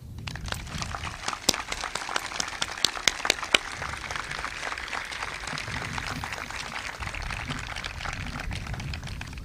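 An audience at a 2017 high school graduation ceremony applauds teachers and staff, a steady wash of many hands clapping with a few sharper, louder claps standing out early, continuous throughout.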